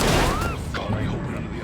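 Explosions and gunfire in the video game Destroy All Humans! burst out loudly at the start and then fade into rumbling debris and crackling chaos, with a voice speaking over part of the din.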